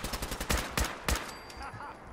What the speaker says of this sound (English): Combat rifle.